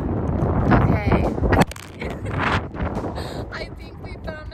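Heavy gusts of wind buffet the microphone outdoors near water, an airport and a highway, rumbling loudly in uneven surges, with some speech mixed in toward the end.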